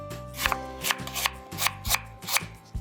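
A knife chops radish into pieces on a cutting board, about seven crisp, evenly spaced thuds, close and clear, with no talking.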